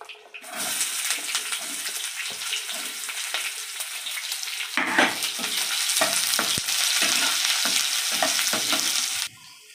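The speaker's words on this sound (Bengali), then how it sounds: "এবার এই যে পেঁয়াজ কুচিয়ে রেখেছি না, এই কটা ঢেলে দেবো" Chopped onions dropped into hot oil with cinnamon, cumin and curry leaves burst into a loud, close sizzle that starts abruptly, then keeps up a steady hiss with crackles and stirring, swelling midway before cutting off.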